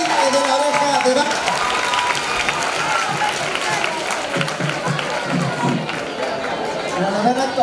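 A school talent show crowd applauds after a singing performance, sustained clapping mixed with chatter and a few cheers, with voices audible through it.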